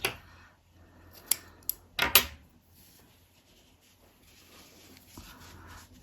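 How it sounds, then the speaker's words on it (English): Scissors snip loose yarn ends on a super chunky crocheted fox pixie bonnet, a couple of quick close cuts with faint handling rustle in a quiet room. "give those a snip"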